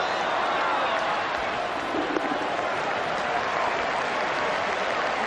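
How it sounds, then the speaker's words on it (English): A capacity crowd at Eden Park during a 1992 World Cup cricket match between Pakistan and New Zealand, a dense, steady roar of applause and cheering filling the whole stretch at even loudness. "There's certainly plenty of atmosphere here at Eden Park this afternoon. It's a capacity crowd"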